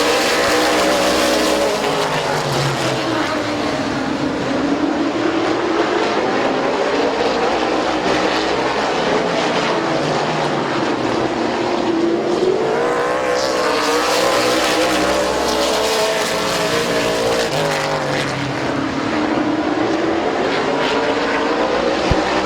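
Race cars roar continuously around the oval at Midvale Speedway, engines rising and falling in pitch as the pack sweeps past, loud and unbroken with no talk over it.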